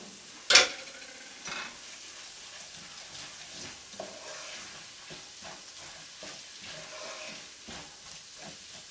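Onions for French onion soup are stirred in a pan, soft scraping and quiet sizzling with a sharp clatter near the start and faint intermittent taps afterward.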